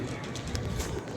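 Pigeon softly cooing in a short, faint burst beneath a busy background of people talking nearby.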